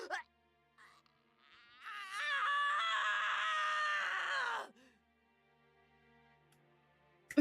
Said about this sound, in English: I hadn't heard him scream like this before.